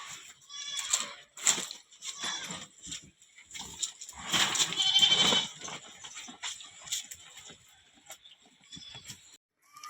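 Goats gathered at a homemade feeding trough bleating in short, repeated calls, several animals overlapping at moderate distance, with a few brief pauses between cries.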